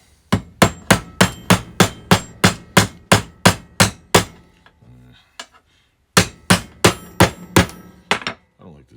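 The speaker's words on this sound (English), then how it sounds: "There's a hammer." A hammer strikes a metal coil bracket for a Honda ATC 70 in a steady run of about fourteen loud, ringing blows, then a pause with faint handling noises, then another quick burst of hits.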